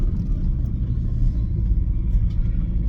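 Steady low rumble of a diesel van engine and road noise while driving away from a petrol station, a continuous near drone with no voices.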